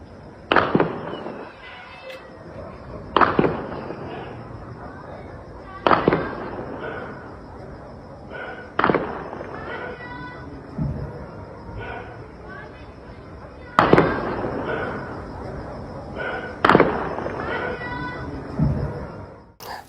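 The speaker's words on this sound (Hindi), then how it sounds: "सामने आए नए वीडियो में झड़पें और तेज आवाजें होती दिखाई दी। इलाके में लगातार गोलीबारी हो रही है।" Gunfire during clashes at Gwadar port in Pakistan: sharp, loud bangs go off every two to three seconds, each with a short echoing tail, over a constant background din and voices.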